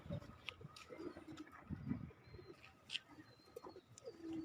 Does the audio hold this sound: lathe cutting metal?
no